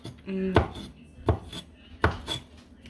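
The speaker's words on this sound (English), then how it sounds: "I've been cutting my shrimp for a while" Shrimp being cut on a board, three distinct knife strikes spaced apart, close and moderately loud against quiet background.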